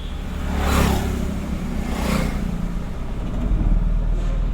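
Car pulling away during a driving lesson, its engine rising in two revving surges and settling into a steady hum, moderately close with no talking.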